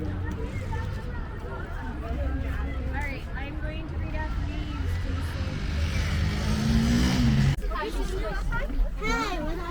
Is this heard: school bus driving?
yes